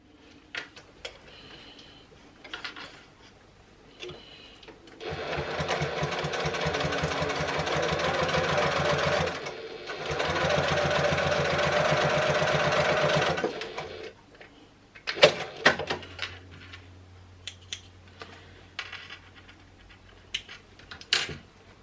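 A sewing machine stitches a fabric triangle pouch closed, running in two steady bursts of several seconds each with a brief pause between, then stopping. Quiet handling noises come before and after.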